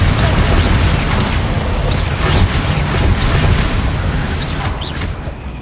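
A Confringo blasting spell in Hogwarts Legacy detonates with a loud, sustained rumbling boom, and dense roaring noise fills the whole stretch with slight surges along the way.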